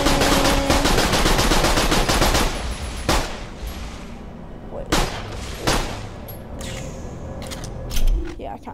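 Newly found gun firing in the Borderlands video game, an opening burst of rapid automatic shots followed by several separate loud blasts spaced a second or two apart, with someone talking in between.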